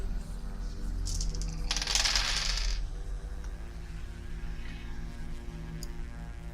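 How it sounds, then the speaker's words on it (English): Dice rattle and tumble across a table for about a second during a Vampire: The Masquerade tabletop role-playing session, standing out clearly over a steady low room hum. "Burn 1 willpower and roll the Resolve Composure +2 dice again."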